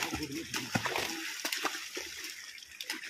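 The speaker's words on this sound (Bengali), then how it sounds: "আমাদের লাল গেঞ্জি কাকা জলের দরে ফেলছে।" A fishing net is thrown into a village pond with a few close splashes and sloshing bursts of water, spaced unevenly over a few seconds.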